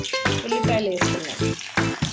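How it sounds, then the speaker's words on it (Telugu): Onions frying in oil, a close sizzling hiss broken by rhythmic stirring bursts under an ongoing tonal background sound, no clear talking. "ఉల్లిపాయలు బ్రౌన్ కలర్లో వచ్చేంత వరకు మనము ఉల్లిపాయలని ఫ్రై చేసుకోవాలి."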